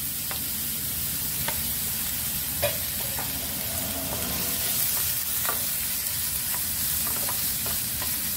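Chopped onions from two large onions sizzle steadily in a pan while a spoon stirs them, giving a series of sharp scraping clicks over a continuous frying hiss, with no talking.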